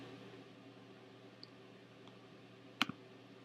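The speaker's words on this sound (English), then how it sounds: "So you could click on here" A single sharp computer mouse click, with a faint double tap following just after, stands out over a quiet, steady room hum while someone works through a WordPress blog page.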